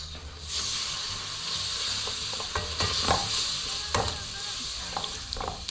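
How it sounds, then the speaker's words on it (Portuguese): Milk being whisked into a whole-wheat flour roux for béchamel, a soft steady sizzle and hiss with small scraping stirs and occasional clinks. "Adicione o leite aos poucos, mexendo para não formar grumos."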